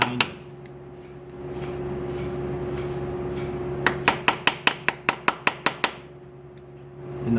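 Metal-on-metal hammer strikes on a punch during chain and sprocket replacement on a Yamaha R1M motorcycle, about ten sharp, evenly spaced ringing taps in a quick burst over steady background hum, near and clear, with no speech.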